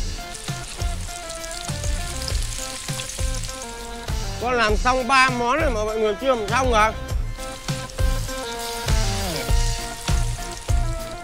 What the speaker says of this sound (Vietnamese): bây giờ xào đi